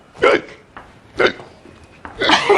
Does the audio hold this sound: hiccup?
yes